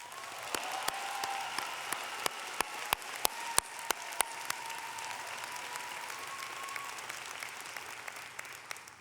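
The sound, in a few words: commencement ceremony audience applause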